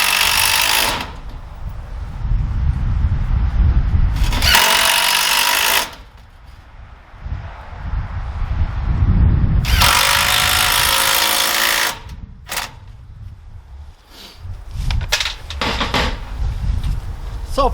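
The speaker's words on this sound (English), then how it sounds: "Once the ladder board's in, go ahead and put the other screws in." A power drill drives screws into raised garden bed boards, loud whirring bursts of several seconds each separated by brief pauses, with clattering and handling noise between them.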